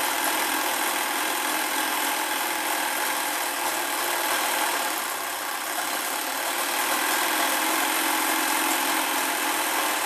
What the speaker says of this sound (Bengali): এরকমভাবে সেলাই করে জয়েনিং করে দিচ্ছি আমি